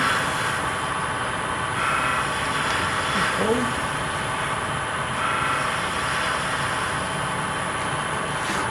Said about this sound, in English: This is planing with a short point.